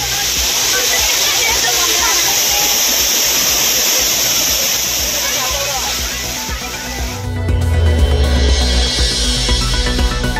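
The main waterfall at Courtallam in flood gives a loud, dense roar of rushing water that fills the scene for about seven seconds before a voice takes over.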